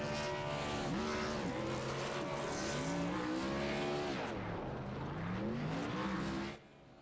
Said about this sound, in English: McMillan, Fish, dual burnouts at Daytona.